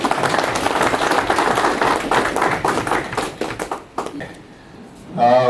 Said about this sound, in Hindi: प्लीज आप तालियों से इनका अभिनंदन करें।